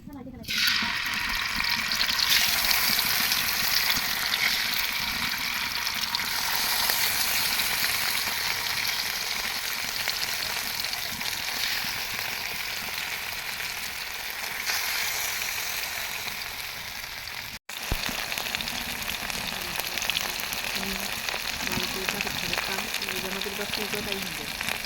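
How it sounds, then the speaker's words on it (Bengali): A bata fish coated with chili powder, turmeric and salt fries in hot oil, giving a strong, steady hiss and crackle that runs almost unbroken throughout, briefly cutting out once before resuming. "মাছটা মানে ভাজা হয়ে গেছে"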